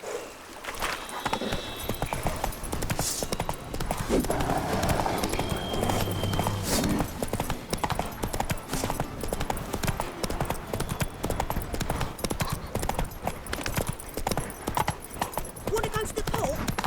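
Roach, the horse in The Witcher 3, gallops with rapid, steady hoofbeats close by, a continuous driving clip-clop of hooves that runs throughout with a voice speaking over it.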